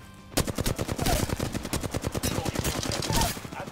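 Flatline assault rifle fire in the video game Apex Legends, a loud, close, sustained automatic burst of rapid evenly spaced shots that starts abruptly and continues to the end.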